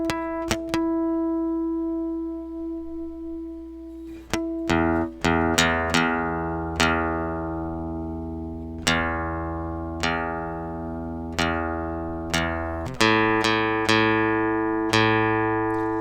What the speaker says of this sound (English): let me tune up real quick